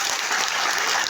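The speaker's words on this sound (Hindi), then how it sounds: "तो ताली जोरदार होना चाहिए," Audience applause at a DXN business meeting, a dense burst of clapping from a crowd, loud and steady throughout.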